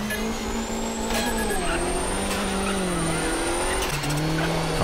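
A rally car races flat out on tarmac in a racing video game, its engine note rising and falling steadily through gear changes across the run, loud and continuous with brief tyre scrubs.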